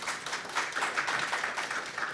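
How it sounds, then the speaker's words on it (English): Audience at the opening session of a ministerial council breaks into a round of applause, a dense, even wash of many hands clapping at moderate volume with no voices over it. "So give ourselves a big round of applause for that."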